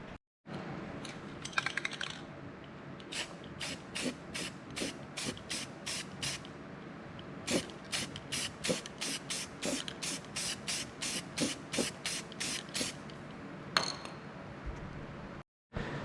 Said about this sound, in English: I'll take some black paint and I'm gonna paint the inside here where I cleaned it off so it doesn't rust too fast